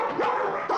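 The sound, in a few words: dogs barking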